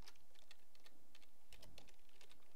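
Rapid typing on a computer keyboard: quick, uneven clusters of crisp key clicks close to the microphone, continuing steadily with brief pauses and no talking.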